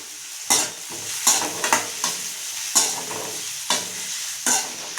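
Curry leaves crackle and sizzle in hot oil with popped mustard seeds and onion, with a spoon scraping and clinking against the pan in repeated sharp strokes over a steady fry.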